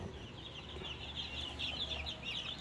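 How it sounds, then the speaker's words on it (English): Many fast-growing big white chickens cluck and chirp together in a continuous busy murmur, moderately faint, with a steady low hum underneath. "So that is 45-day chickens, those fast growing big white chickens."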